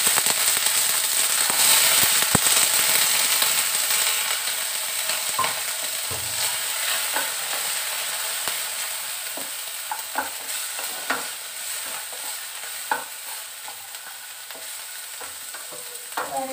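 Mixed vegetables, with tomato among them, sizzle steadily in a pan while being stirred, with sharp scraping and clattering knocks scattered throughout and a loud burst of frying near the start; no one speaks.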